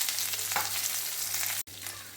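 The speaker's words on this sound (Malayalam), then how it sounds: "അതിലേക്ക് സവാളയും മൂന്നാല് കീറിയ പച്ചമുളകും കൂടി ഇട്ട് വഴറ്റിയെടുക്കുക" Sliced onions and slit green chillies sauté in hot oil with dried red chillies, a dense continuous sizzle close by that cuts out for a split second before resuming.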